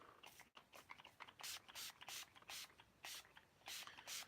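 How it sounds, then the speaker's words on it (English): Guitar polish sprayed onto an acoustic guitar fretboard in a series of short, crisp hissing bursts, about eight quick pumps close to the microphone with brief gaps between them. "So what I'm going to do is I'm going to spray down"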